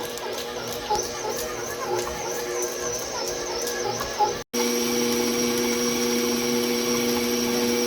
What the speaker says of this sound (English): So we stop the mixer.